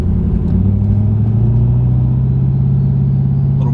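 Tuned 700+ horsepower Ford F250 with a 6.7 Powerstroke diesel pulling hard in a first-gear rolling launch, a loud steady low engine roar that holds and climbs slightly throughout, with no talk.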